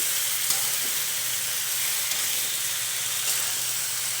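Vegetables and potatoes sautéing in a pan give a steady, close sizzle and hiss that runs the whole way through, with a few soft stirring knocks and no voices.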